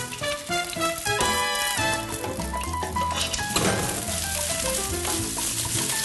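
Whole quail and crushed garlic frying in a skillet, a continuous bright sizzle and crackle close up, with faint clinks of a utensil against the pan.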